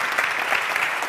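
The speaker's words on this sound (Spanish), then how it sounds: "Un fuerte aplauso para ella." Audience applause at a film-industry conference session on stage, a short steady wash of clapping at moderate level with no talk over it.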